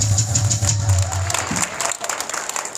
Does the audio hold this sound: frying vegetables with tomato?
no